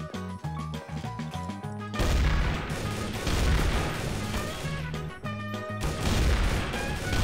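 Sniper rifle shots in Garry's Mod, a few loud, heavy cracks and crashes breaking through a tonal game music bed, with the strongest impacts around the middle and near the end.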